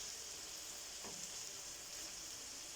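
Meat kavurma roasting in a gözleme pan sizzles in a steady, even hiss, close and constant, with no other sounds breaking through.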